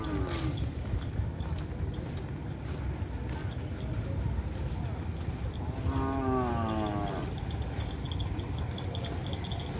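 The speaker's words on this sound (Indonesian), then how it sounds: "ada sapi kecil juga teman-teman" Cattle low at a bull race training field at Asemanis in Pamekasan in the morning; one drawn-out moo rises clearly midway through, over steady outdoor crowd noise and background bustle.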